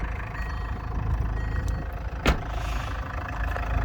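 A 2.2-litre turbo diesel engine in a Range Rover Evoque idles steadily nearby, giving a continuous low, even rumble with one brief sharp click partway through and no talk.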